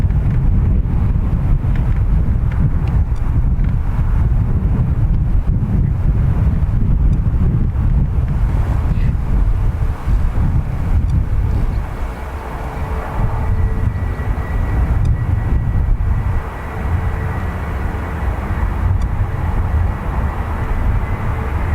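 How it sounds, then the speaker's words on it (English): A United Airlines plane takes off from runway 2 right at Dublin Airport, its engines a loud, sustained broadband roar heavy with wind buffeting on the microphone, easing slightly midway before swelling again. "Clear for takeoff, runway 2 right, United 316"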